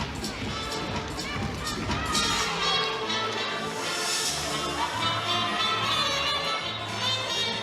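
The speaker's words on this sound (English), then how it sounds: "Love to see when the teammates are engaging in the floor routine, cheering their teammate on from the side." Teammates cheer from the sidelines during a women's college gymnastics floor routine at an Oklahoma vs Auburn meet, a steady, lively crowd roar with scattered shouts filling the arena throughout.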